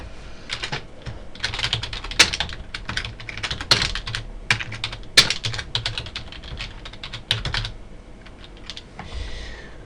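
Steady typing on a computer keyboard as a virtual machine name is entered, with irregular bursts of close, crisp key clicks and brief pauses throughout, and no talking.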